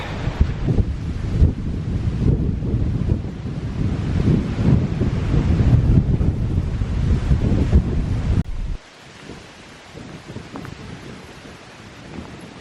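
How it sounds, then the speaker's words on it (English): Strong wind gusting up a valley buffets the microphone with loud, continuous low rumble for most of the stretch, then drops abruptly to a quieter, steadier breeze near the end. "You can really feel that wind coming up the valley, can't you?"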